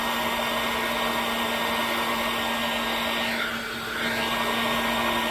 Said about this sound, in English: now I'm going to apply some heat to it